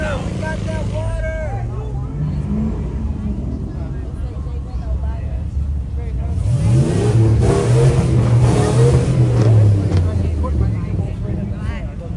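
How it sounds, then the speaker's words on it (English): An engine revs loudly on a busy street, rising and falling over steady traffic rumble with people chattering nearby throughout. "rev that engine."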